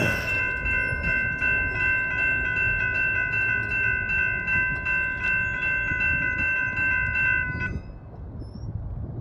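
A real train rumbles past a level crossing while steady ringing tones sound throughout, then the sound drops away abruptly near the end, leaving quieter background noise.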